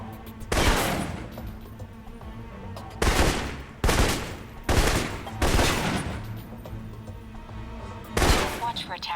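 Assault rifle fire in a shooting video game, several loud bursts of rapid automatic shots spaced a second or two apart, close and sharp against a quieter background.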